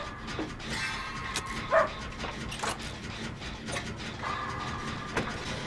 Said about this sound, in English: Dog! Stop it.